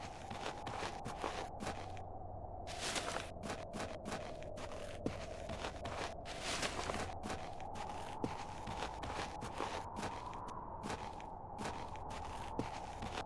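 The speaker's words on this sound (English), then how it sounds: "Just speeds up my footsteps." Footsteps of a character carrying a body in a horror video game, a steady run of close, muffled steps with a low droning ambience beneath and no talk.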